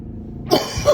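A single sharp cough breaks in during a sermon, a close, loud burst with a second smaller hack just after.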